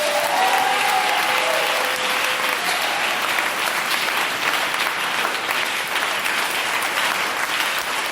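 A church congregation applauds, with dense, steady clapping from a large crowd that fills the room at even loudness for about eight seconds, along with a few faint voices and brief cheers.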